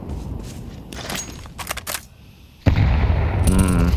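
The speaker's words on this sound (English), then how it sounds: "it's actually the M4 that troubles Flit a little more" M4 rifle fire in a Counter-Strike match on the Inferno map, rapid crackling shots in short bursts, then a louder sustained stretch of game noise with a tonal hum near the end.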